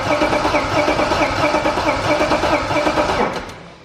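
BMW E36 with a freshly rebuilt M52B25 inline-six turns over and catches, a loud, close, busy engine roar that holds steady before easing off at the end.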